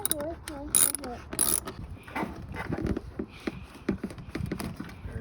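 A ratchet clicks in short bursts while unbolting an 8mm bolt on the throttle body of a 2007 Ford Mustang V6, close, quiet metallic ticking mixed with handling clanks.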